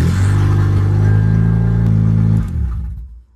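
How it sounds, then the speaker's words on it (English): A hotwired car engine, started by turning the ignition switch with a slotted screwdriver, runs with a loud, steady idle rumble for a couple of seconds, then cuts off and winds down to silence. "all I need is a slotted screwdriver and I can start the car"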